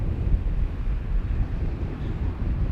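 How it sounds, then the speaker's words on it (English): Strong wind buffeting a microphone at a slope where a Volantex PhoenixS 742-7 model glider is flown, a loud low rumbling roar that gusts continuously without pause and no voices. "We have a fair bit of wind"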